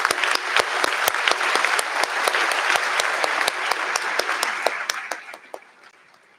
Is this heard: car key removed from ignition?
no